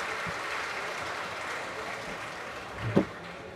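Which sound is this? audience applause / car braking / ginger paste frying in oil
audience applause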